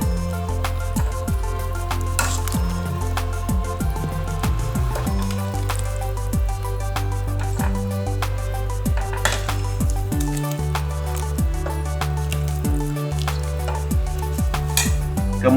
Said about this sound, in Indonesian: Lalu aduk sejenak.